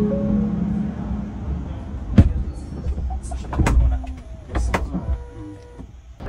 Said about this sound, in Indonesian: 关闭车门